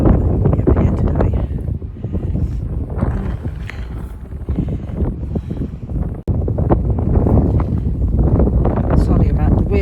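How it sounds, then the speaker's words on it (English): Strong gusts buffet an outdoor microphone on a windy hillside, a continuous rough low roar that rises and falls, with a voice speaking over it. "Sorry about the wind, I can't do anything about that."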